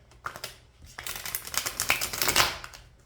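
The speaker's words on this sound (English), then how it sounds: "Bear with me as I shuffle here." Rapid papery riffling and clicking of playing cards being shuffled, building in bursts and loudest near the end, close by.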